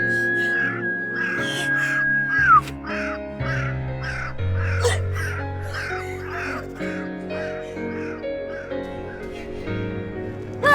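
A crow caws again and again in short, harsh bursts for about ten seconds, close and clear, over a steady background drone.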